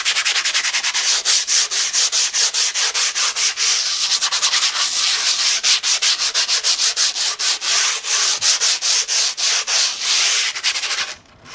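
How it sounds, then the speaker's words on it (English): Grip tape on the top of an 8.4 Anti Hero skateboard deck is sanded in quick, rhythmic, close-up rasping strokes that repeat steadily and then stop at the end. "just sanding the top"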